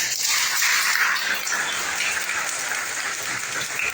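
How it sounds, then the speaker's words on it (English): An audience applauding a doctor at a medical camp, with dense, steady clapping that fills the whole clip, loud and close, and no talk over it. "Give a applause for Sister Dr."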